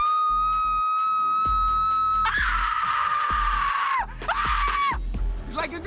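A person screaming on request, one long loud high-pitched scream held for several seconds and then a second shorter shriek, with thuds and background noise from a behind-the-scenes TV set around it.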